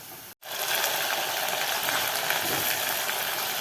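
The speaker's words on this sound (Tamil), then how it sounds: "இஞ்சி பூண்டு பேஸ்ட் அது போட்டதுனால தான் இந்த சத்தம்." Ginger garlic paste sizzling in hot oil with onions while cooking a vegetable biryani in a clay pot, a steady loud frying hiss that starts after a brief gap and holds throughout, with no talking.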